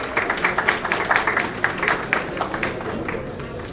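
Audience applause at an education conclave and award ceremony, a crowd clapping in a hall, moderately loud and steady with a few sharper claps, gradually fading.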